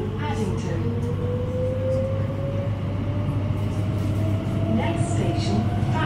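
Elizabeth Line train on the London Underground, riding inside the carriage: steady loud rumble with a rising motor whine throughout, continuous and close.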